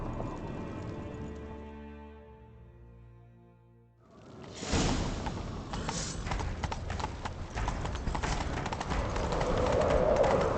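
Horse hooves in The Witcher 3: after a few seconds of quiet tonal ambience, a rapid galloping clip-clop starts and keeps up steadily and close, with some birdsong and rushing movement around it.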